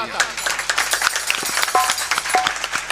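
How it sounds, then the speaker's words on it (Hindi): Audience applause at the inauguration of a Ramlila performance in Bangarkalan, Kadipur, Sultanpur, with steady crowd clapping over a speaking voice. "जोरदार तालियां"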